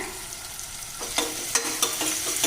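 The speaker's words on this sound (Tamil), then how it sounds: "வெங்காயம் தக்காளி நல்லா வதங்கிடுச்சு இஞ்சி பூண்டு பேஸ்ட்டு ஒரு டீஸ்பூன் அளவு சேர்த்துக்கிறேங்க" Onions, tomatoes and ginger-garlic paste sizzle steadily in a hot pan, with a few sharp scrapes and taps of stirring near the end.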